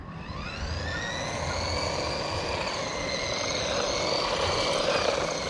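High-pitched electric motor whine from a Haiboxing 4x4 RC car at full throttle with the speed switch on low, a steady, rising drone with gravelly rolling noise underneath, held throughout and fairly close.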